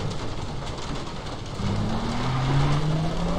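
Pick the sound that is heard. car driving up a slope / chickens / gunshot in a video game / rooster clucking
car driving up a slope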